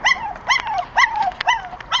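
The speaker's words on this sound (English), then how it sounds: "She's been a really good dog." A mother dog with puppies makes a series of short, high whining yips in quick bursts, close by and loud, with no talking between them.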